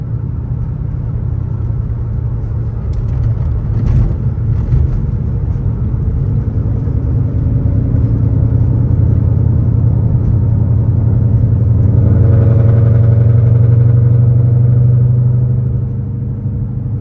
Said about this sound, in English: it is bucking again. I think it's just bad gas